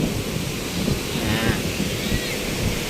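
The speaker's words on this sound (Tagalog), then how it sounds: "Kaso tingnan mo yung alon galit na galit" Rough ocean surf breaking on the shore at Mauban, Quezon, a loud continuous roar of churning waves mixed with heavy wind buffeting, with a voice faintly present underneath.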